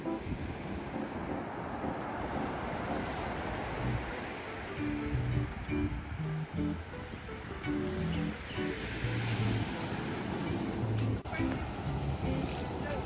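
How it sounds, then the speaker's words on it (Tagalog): Waves crash continuously on a pebble beach in a dense, roaring wash with gusts of wind noise over the microphone. A person talks over the surf. "Medyo malakas yung sound ng alon."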